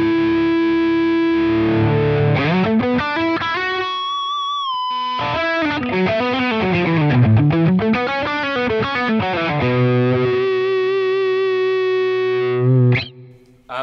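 Electric guitar played through a Line 6 Helix amp modeller with no feedbacker effect, giving a loud, heavily distorted tone with sustained notes, sweeping pitch bends and a brief held note before the playing resumes and cuts off abruptly near the end.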